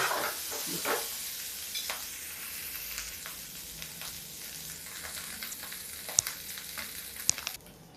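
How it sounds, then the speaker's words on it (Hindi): Ingredients roast in a pan until crisp, a steady close sizzle with scattered pops and a few sharp clicks of stirring across the whole stretch, with no talking. "तब तक हम इसको भूनते रहेंगे"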